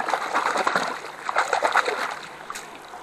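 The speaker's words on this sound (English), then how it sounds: "I'm going to go ahead and swish this thing around" Water swished and sloshed around inside a BeFree water filter bottle, a few close, quick splashing bursts with gurgling slosh.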